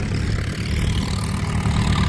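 A vintage Farmall F20 tractor engine idles at a plow day event, with a steady loud low rumble that holds continuously throughout.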